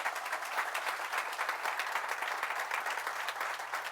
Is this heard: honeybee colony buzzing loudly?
no